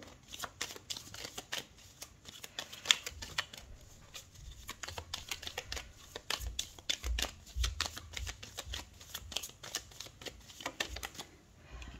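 Tarot cards are shuffled by hand, a long run of rapid, crisp riffling flutters and soft slaps in repeated bursts, close and fairly quiet, with no talk over it.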